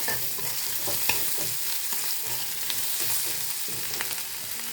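Garlic and ginger fry in oil spiced with cumin and whole garam masala, giving a steady close sizzle broken by the scrape and clatter of stirring throughout, with no voices.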